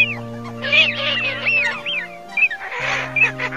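Recorded calls of coot, teal and wild duck, a close, loud series of quacks, clucks and rising squawks that overlap in bursts, with a steady low hum underneath.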